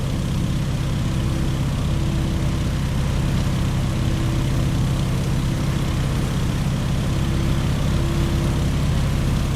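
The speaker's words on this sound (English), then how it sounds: "It's a nice, docile airplane with an open cockpit that lets you really enjoy the scenery." A Stearman open-cockpit biplane engine in the Microsoft Flight video game drones steadily, a loud, constant low propeller and engine hum with no talking.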